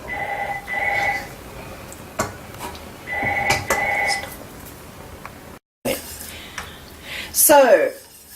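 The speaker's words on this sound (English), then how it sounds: "the phone rang just then, so we had a bit of an interruption" A telephone rings in a home kitchen while a cheese sauce simmers on very low heat. Two clear bursts of ringing come through, with some kitchen noise around them and a brief clatter near the end.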